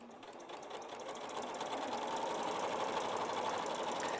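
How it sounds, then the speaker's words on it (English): A sewing machine stitching a red Christmas stocking through wadding, a steady fast mechanical whir with rapid needle clatter that builds slightly and runs on alone without talk. "the one that Amanda's sewing there"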